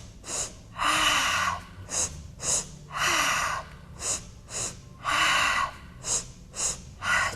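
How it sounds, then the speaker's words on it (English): During a roller workout, a person takes two short, quick sniffs through the nose and follows them with a long, breathy exhale, repeating the pattern three times. The breathing is close and clear, with no talking. "So a sniff, sniff, exhale."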